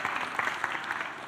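A church congregation claps during an Easter children's service: brief, moderately quiet applause with a few distinct hand claps over a soft wash of clapping from a small group.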